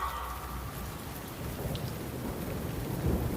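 Steady heavy rain pours through a stormy night, its constant hiss layered with low rumbling thunder, with no voices present.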